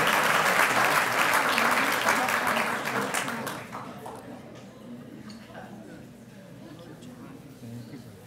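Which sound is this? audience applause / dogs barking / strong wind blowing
audience applause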